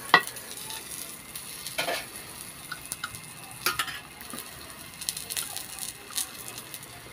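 Chopped onions frying in a little cooking oil, a soft continuous sizzle broken by sharp clinks and scrapes of stirring against the pan.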